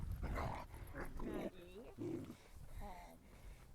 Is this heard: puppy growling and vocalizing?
yes